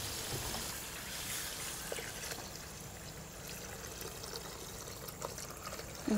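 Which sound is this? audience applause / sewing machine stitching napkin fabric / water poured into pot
water poured into pot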